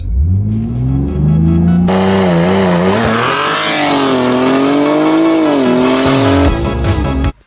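A rebuilt, previously wrecked BMW M3 accelerating hard in a drag race against a Lamborghini Huracán, loud close engine roar climbing through several gear changes with sharp shifts, then cutting off abruptly.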